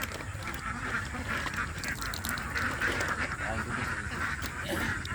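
Domestic ducks quack repeatedly at a countryside farm, a busy overlapping chorus at moderate distance. Voices of people talking mix in with the ducks.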